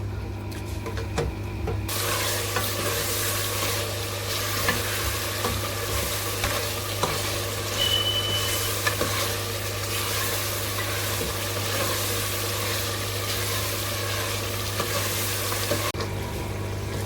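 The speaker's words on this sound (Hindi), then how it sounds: "अब मैं इसमें ये घी ऐड करूँगी। कीमे की अच्छी तरह से भुनाई कर लेंगे।" Minced meat (keema) sizzles and fries in ghee in a pan, a steady, close crackling hiss with occasional scrapes of stirring and no talking.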